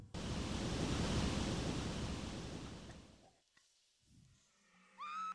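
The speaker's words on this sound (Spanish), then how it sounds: "Voy a purgar el agua." Water drains from a cistern in the Tomb Raider video game, a loud steady rushing wash that holds for about three seconds, then fades out and leaves quieter game sounds.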